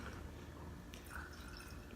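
Tea poured from a small vessel into a gong fu cha fairness pitcher (gong cup) while brewing Golden Water Turtle Wuyi oolong: a faint, steady trickle of liquid with soft dripping, close and quiet, with no voices.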